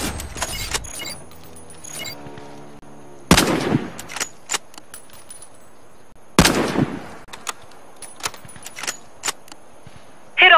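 Sniper rifle shots hit targets on a Warface training range: a few sharp, loud cracks with ringing tails, spaced seconds apart, among lighter clicks and mechanical clatter from the weapon.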